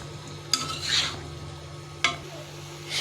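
Egg stirred with ash gourd in a pan sizzles faintly under two sharp scrapes of a spatula against the pan, close and quiet, with no talk.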